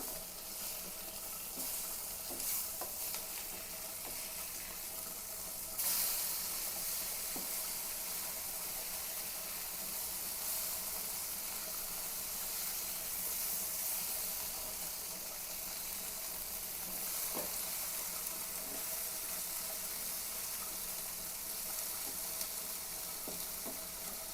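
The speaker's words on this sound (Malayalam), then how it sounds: "ഇപ്പം മത്തീനെ നമുക്കൊന്ന് മറിച്ചിടാം" Sardines sizzling steadily in hot oil in a home kitchen pan after being turned, a continuous close crackling fry with a few small clinks and bumps along the way, no voices.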